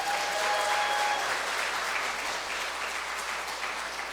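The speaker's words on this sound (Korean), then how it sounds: "교회가 얼마나 따뜻한지 이렇게 박수까지 쳐주실 줄 몰랐습니다" Steady applause fills a church hall, many hands clapping at once at a moderate distance. It continues without a break for several seconds, with no voice over it.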